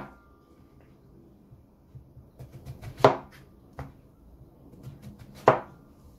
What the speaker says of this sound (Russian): Вырезаем у кабачка серединку. Это можно сделать простым ножом.